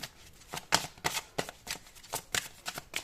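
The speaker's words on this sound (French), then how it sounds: "encore une dernière carte, s'il vous plaît" Tarot cards are shuffled by hand during a horoscope reading, giving a quick run of crisp riffling bursts in an uneven rhythm, close and fairly loud with no talking.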